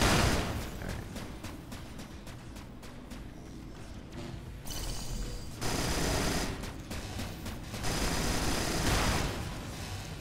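Enemy gunfire in the game Cryptark: a quick rattle of repeated shots at first, then a dense, continuous wash of firing and impacts at steady loudness, with no voices.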